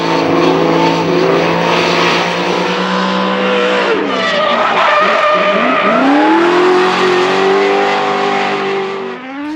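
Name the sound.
drift cars racing, turbo vs V8, Nissan S15 and R34 Skyline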